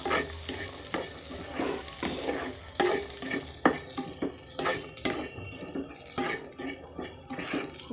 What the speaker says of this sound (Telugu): స్వీట్ కార్న్ని ఇలా అందులో వేసుకొని వేయించుకోవాలండి